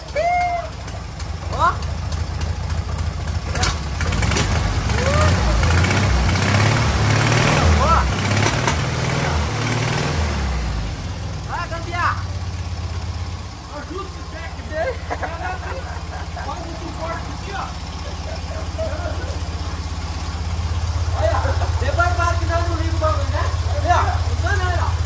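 An old Volkswagen Kombi van engine cranks and then settles into a loud, rough idle with a heavy low rumble that continues steadily, while people talk over it.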